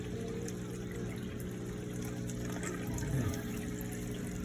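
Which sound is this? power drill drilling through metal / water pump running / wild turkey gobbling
water pump running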